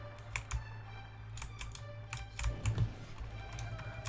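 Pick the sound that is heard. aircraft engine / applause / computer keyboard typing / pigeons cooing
computer keyboard typing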